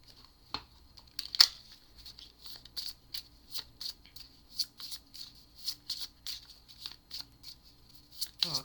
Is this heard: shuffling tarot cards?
yes